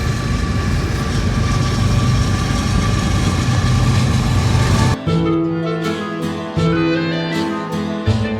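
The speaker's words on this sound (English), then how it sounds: "this freight train's gonna barrel past us." A freight train passing close by near the Indiana Dunes, a loud, steady rumble and clatter of rolling cars that continues throughout, changing in texture midway with repeating rhythmic wheel knocks.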